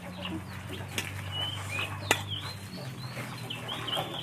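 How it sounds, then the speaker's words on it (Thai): A chicken clucks and calls close by in a home kitchen where pork belly is being braised, with several short bright clucks and a squawk over a steady low background hum. "ไปเลยนะไก่เอ้ยอย่ากวน"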